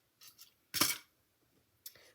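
Scissors cut out paper pieces for card making, a few short close snips: two light cuts, one louder crisp cut, then one more after a pause, with no talking.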